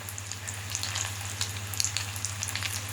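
Swedish meatballs sizzle steadily in a frying pan while a spatula turns them, producing a constant close crackle with small scraping taps over it.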